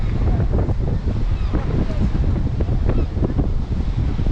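Strong wind gusting across a microphone outdoors in windy Ceredigion, a steady low buffeting rumble with irregular gusts throughout, loud and close, with no talk.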